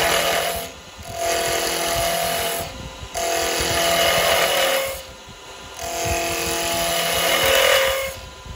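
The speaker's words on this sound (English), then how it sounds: "Handles right down, push my spindle gouge," Spindle gouge cutting square wood stock spinning on a lathe while turning a Christmas ornament, a loud, steady rough scraping that rises and falls in several passes, with brief quieter gaps between cuts.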